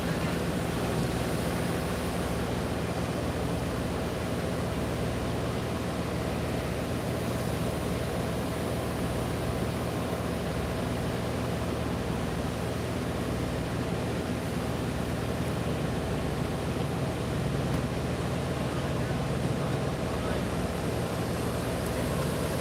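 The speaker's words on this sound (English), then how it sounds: "That sound you hear is the generators running on the dining car." A steady, droning mechanical hum of a railway dining car's generators running, constant and broadband with a low rumble, continuing unchanged throughout.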